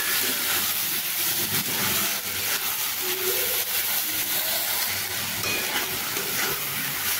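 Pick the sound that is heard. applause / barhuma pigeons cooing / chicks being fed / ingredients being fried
ingredients being fried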